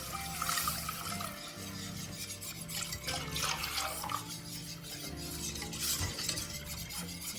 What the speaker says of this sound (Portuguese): Aqui agora eu coloco 1 litro de leite